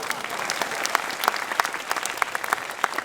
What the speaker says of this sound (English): Round of applause for Google.